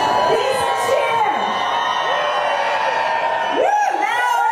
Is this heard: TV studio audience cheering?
yes